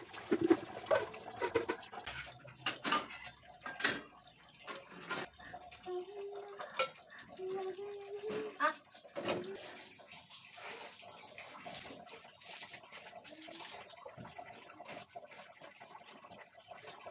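Water splashing and running in a home setting, with intermittent splashes and clatter near the start, a steadier wash of running water through the rest, and brief voices in the background.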